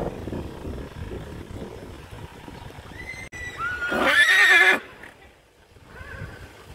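A horse of the Sindhi breed neighs loudly in a shaky whinny lasting about a second near the end, after a stretch of quieter outdoor background sound.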